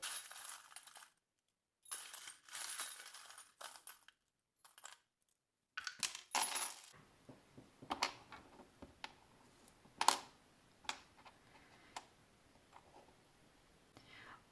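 Small divination charms cast and tumbling onto a hard surface, giving a series of light metallic clinks and taps after a stretch of soft whispered speech, close and quiet with scattered rattles.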